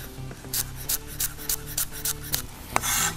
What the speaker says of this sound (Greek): θα πάρω δύο κλωναράκια φρέσκο κρεμμυδάκι και θα τα κόψω σε λοξές έτσι διαγώνιες λωρίδες